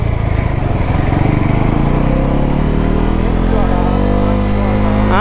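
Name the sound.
Bajaj Pulsar NS400Z motorcycle engine while riding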